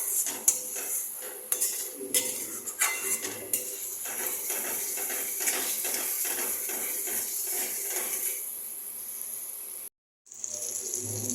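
Onion gravy for potato and onion pakora curry, seasoned with salt and black pepper, being stirred in a pan: busy metal scraping and clinking of a spoon against the pan over a steady sizzle, close and continuous, with a brief dropout near the end.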